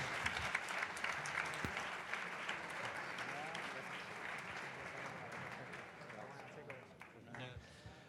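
Audience applauding at a Madrid AI meetup, a dense steady clapping wash lasting several seconds at moderate distance, with a few voices murmuring underneath.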